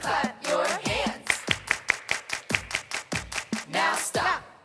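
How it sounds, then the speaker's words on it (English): A group of children clap their hands along in a kids' worship session, a steady run of about a dozen sharp, close claps in rhythm, with an adult voice talking before and after. "And everybody clap your hands"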